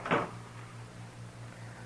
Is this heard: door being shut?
yes